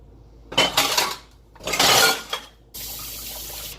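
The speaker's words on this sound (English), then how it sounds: "now that I've got the dishes all sorted out" Dishes sorted by hand at a kitchen sink, two bursts of clattering plates and cutlery close by, then a steady rush of running tap water to the end.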